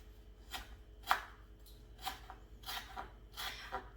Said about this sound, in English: So we're going to chop up our lemongrass roots.